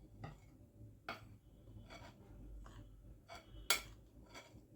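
Flour being stirred into orange cake batter in a bowl makes a series of soft, irregular clinks and scrapes from the utensil. The sounds are quiet and fairly close, with no voices.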